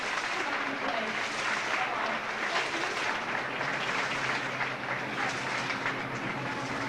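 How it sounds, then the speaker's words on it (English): Steady clapping from a crowd fills the whole stretch, dense and continuous, with a faint murmur of voices underneath. "let's have a big round of applause for all of our brave extras"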